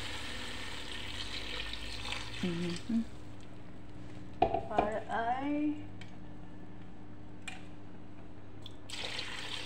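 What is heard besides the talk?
water poured into a pot for pork sinigang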